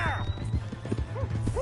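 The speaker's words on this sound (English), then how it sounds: "Hey, that's my horse!" A horse gallops in a PlayStation 4 video game with a rapid, rhythmic clip-clop of hooves close by, broken by short whinnies, while voices shout over it.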